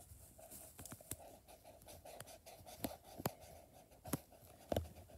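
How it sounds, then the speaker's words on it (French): Marker or pen scratching across paper while a picture is colored in, a quiet irregular run of short strokes and taps, close and soft with no voices. "on va colorier pour que ça fasse plus joli"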